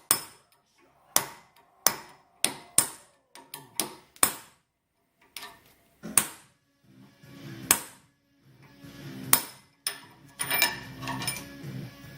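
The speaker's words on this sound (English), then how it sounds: "take to it with the hammer and a pin punch" Sharp metallic hammer blows strike a pin punch on a Nissan S13 steering column, about a dozen irregular hits with brief ringing decays, some in quick pairs, close and loud.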